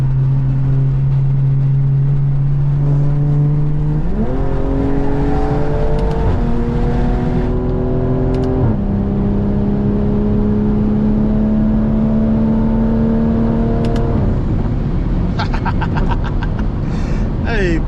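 A tuned 500hp BMW M340i with a downpipe drones steadily in traffic, its engine and exhaust pitch climbing and dropping through gear changes, loud and close throughout.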